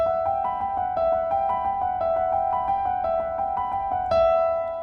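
Piano notes played with the sustain pedal held in a gentle repeating pattern, each one ringing on and blending into the next with a sustained, smooth resonance.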